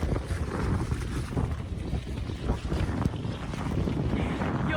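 Strong gusty wind roars across the microphone outdoors, a loud continuous buffeting with rumbling low tones and no clear speech.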